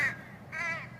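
Crows fighting over a chunk of chocolate, two harsh caws close by, one after the other in quick succession.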